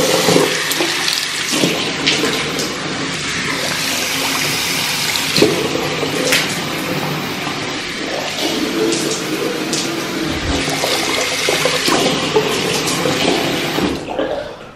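Water splashes and runs steadily onto a household floor, a continuous pouring wash with a few sharper splashes, loud and close, with a brief voice in the background.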